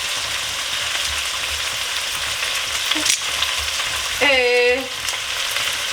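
Garlic hits a hot frying pan while a smoked pork roast is being cooked, giving a loud continuous sizzle and crackle, with a brief clatter partway through and a short high whine near the end.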